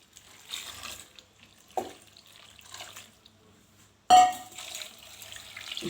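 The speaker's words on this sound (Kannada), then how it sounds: "ನೀರನ್ನು ಆ್ಯಡ್ ಮಾಡಬೇಕು." Water is poured into a pot of rajma (kidney bean) gravy in a few separate short bursts of splashing and trickling, close up, with quiet gaps between pours and a stronger final gush.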